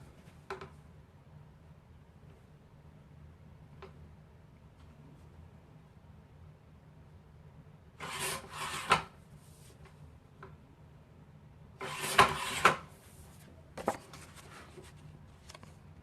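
Scissors snip through paper for a 6x6 Halloween album cover, two short bursts of close, crisp cutting and rustling amid near silence, with a few faint taps between them.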